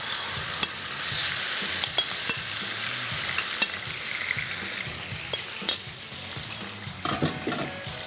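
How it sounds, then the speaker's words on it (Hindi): Chicken sautés in a pan over a low flame with a steady, close sizzle. Scraping stirs and sharp metallic clinks of a utensil against the pan break in now and then. "चिकन जो है उसको यहाँ पर मैं पका लूँगा"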